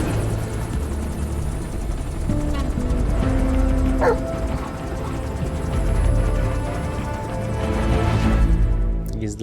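A dog barks and yips in Metal Gear Solid 5 amid game ambience and a low engine drone, the barks short and intermittent, with a voice talking over them.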